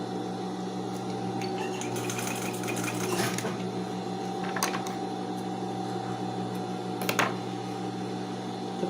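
A sewing machine stitches steadily while a ballet leotard and wired tutu costume are sewn, its motor running as a continuous close whir with a few sharper clacks along the way.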